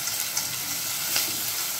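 Onions frying in ghee give off a soft, even sizzle for a couple of seconds, with a faint stirring scrape partway through.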